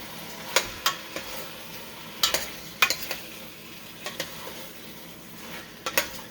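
Pork meat stirred in a pan with a utensil, giving a series of sharp metallic scrapes and clinks at irregular intervals over a faint sizzle, close and unaccompanied by talk.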